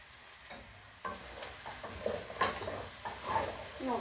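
Chopped onion dropped into a hot pan sizzles as it sautés, with stirring scrapes and soft clinks of a utensil against the pan; moderate and close, with crackling bursts rising and falling.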